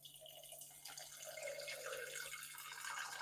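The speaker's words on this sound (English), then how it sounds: "I'm going to have a big glass of water." Tap water pours into a big pint glass, a faint, close trickle whose pitch rises gradually as the glass fills, heard on its own with no talk.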